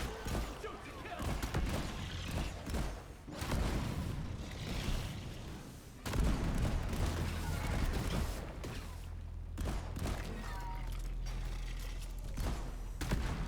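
Weapons fire continuously in Deep Rock Galactic, a dense rattle of shots mixed with explosive crashes during a swarm fight, with voices calling out over the chaos.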